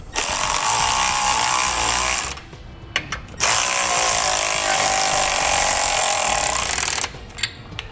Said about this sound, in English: So now those two lower lock nuts, we're going to tighten those up, but we're going to alternate going back and forth so we get an even pressure going up.